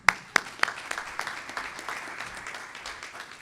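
Applause from an audience at a virtual launch event for a student wellness project, opening with a few sharp separate claps that blend into a steady, moderately loud patter of clapping.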